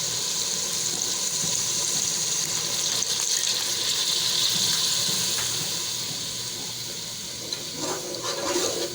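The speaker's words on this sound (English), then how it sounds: "Now add 1 cup of water." Water poured into a pan of chicken cooking for hot and sour chow mein, a steady hissing, bubbling pour that runs close and loud for several seconds, then eases as the sizzle settles, with no talking.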